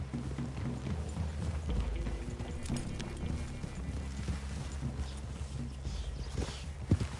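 Horses walk in the video game Red Dead Redemption 2, hooves clip-clopping in a steady, moderately close rhythm over a low ambient bed, with a sharper knock near the end.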